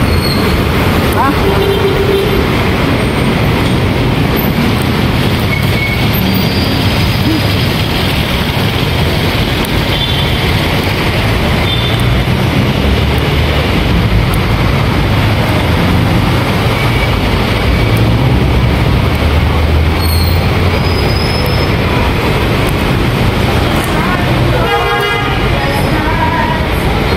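An LRT light-rail train rolls into Forza station with a continuous loud rumble and rail noise, a short horn toot, and a few faint tones, while people talk nearby.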